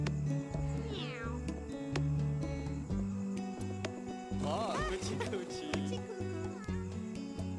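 Cats meow in the video game Cat Cafe Manager, with several short meows rising over a steady looping music bed and game sounds.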